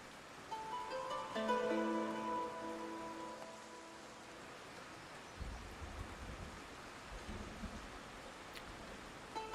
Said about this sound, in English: this rain is going on forever